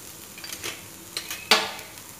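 A spoon scrapes and taps against a pan as onions are stirred and sautéed with turmeric and chilli for masala bhindi, a few soft clinks and one sharper clatter under a faint background hiss.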